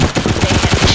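Rapid automatic gunfire in the Roblox shooter Phantom Forces, a dense, loud, close burst of rattling shots with no gaps, filling the short moment.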